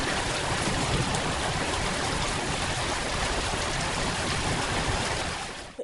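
Heavy rain falls outside in a dense, constant hiss of drops hitting surfaces, loud and unbroken with no voices, then fades away abruptly at the very end.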